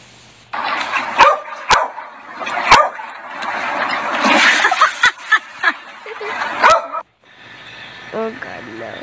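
A dog barks and yips in short bursts close by, mixed with people talking and exclaiming over it, with several sharp clicks and a quieter stretch near the end.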